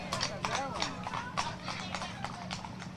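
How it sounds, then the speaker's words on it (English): Horses trotting along a street during a July 4th parade in Douglasville, with a steady clip-clop of hooves on pavement heard close by beneath crowd noise and talk. "You can tell those two gentlemen are experienced riders as they have their horse trotting along."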